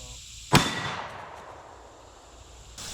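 A 20-inch AR rifle fires one round of 5.56 55-grain ball at a blacksmith-made armor plate, a single sharp, loud crack with a decaying ringing tail, close by.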